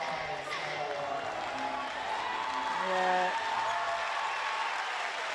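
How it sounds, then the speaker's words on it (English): A crowd at a WNBL basketball game between UC Capitals and Perth Lynx claps and cheers in a steady roar that swells briefly midway, with a commentator talking over it. "And this crowd is really up and about at the moment."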